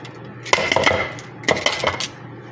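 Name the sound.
stirring food in a pot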